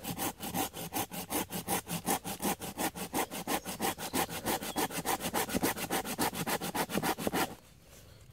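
A hand saw cuts through a piece of wood in steady, rhythmic back-and-forth strokes, close and even, about two strokes per second, stopping abruptly near the end.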